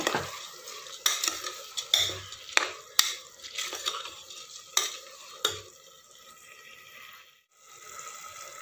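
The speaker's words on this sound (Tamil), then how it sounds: "நல்லா மிக்ஸ் பண்ணி விடுங்க." A utensil scrapes and stirs through rice and lentils in a pan, with repeated clinks and scraping strokes and a soft sizzle underneath, no talking.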